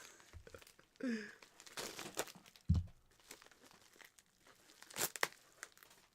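Bubble mailers nested inside one another crinkle and tear open in several quiet, uneven bursts of plastic rustling and crunching, close by and alone.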